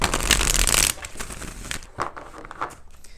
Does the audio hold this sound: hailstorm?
no